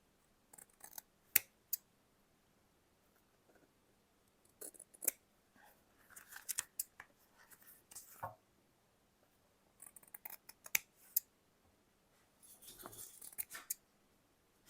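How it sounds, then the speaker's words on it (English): Scissors snipping along fabric edges while making a six-fold journal, a few sharp close clicks scattered across the stretch, with short bursts of quick cuts among quiet pauses. "I'm going to snip off just any little bit of an edge on the top and bottom if I need to"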